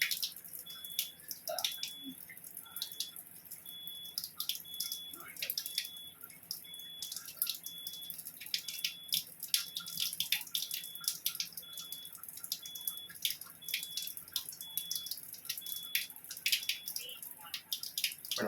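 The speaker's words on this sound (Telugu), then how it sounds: "క్లీన్ వాటర్ వస్తుంది" Water running from an Enagic Kangen water ionizer tap, a steady close trickle with repeated short electronic beeps from the device at regular intervals over the whole stretch.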